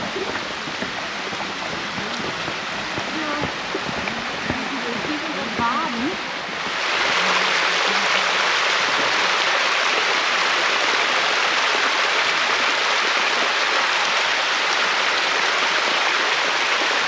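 A mountain stream flows steadily and loudly, its broadband rushing becoming stronger and fuller partway through; talk is heard over the water in the opening seconds.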